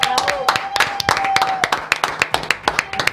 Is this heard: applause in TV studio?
yes